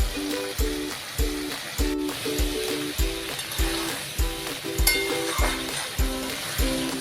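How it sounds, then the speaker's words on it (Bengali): Shrimp frying in a pan sizzle at a moderate level under a regular, repeating percussive pattern of tones that runs throughout in an even rhythm. "চিংড়ি ফ্রাই।"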